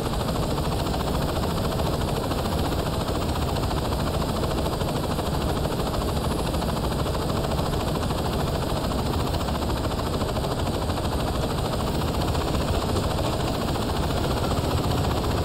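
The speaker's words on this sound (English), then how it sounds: "Wow, they got an attack helicopter." Attack helicopter in the video game Saints Row 2, a loud, steady rotor and engine roar filling the whole stretch without letup.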